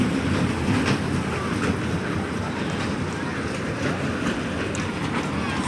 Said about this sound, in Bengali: এই যে বাচ্চাদের খেলনার জন্য এই যে একটা রেল লাইন চলতেছে